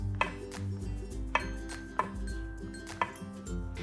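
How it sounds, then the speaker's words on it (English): A knife slices shiitake mushrooms on a cutting board, making four distinct, crisp knocks at uneven intervals over low background music, with no voices. "Slice the shiitake mushrooms."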